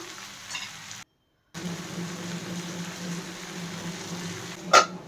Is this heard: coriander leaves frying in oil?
yes